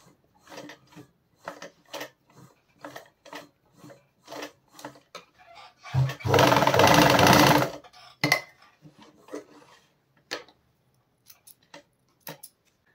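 A sewing machine hems a pair of denim jeans in a short steady run of about two seconds. Quiet clicks and brief rustles of handling come before and after it.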